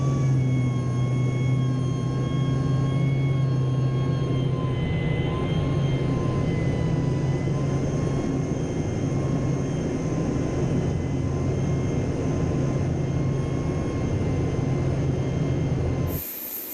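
Aircraft of the Indonesian Air Force's Jupiter Aerobatic Team fly at the LIMA 2017 air show, giving a continuous, fairly loud engine drone with steady tonal whine that holds throughout, with no talk.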